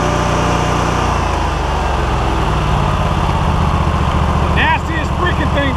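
A Wright Stander ZK 72 lawn mower engine runs loud and close while mowing, a constant rough droning rumble throughout with a faint higher whine near the end.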